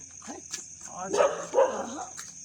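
Dogs bark along a road, several short, fairly close barks and yaps standing out over a steady insect-like hum.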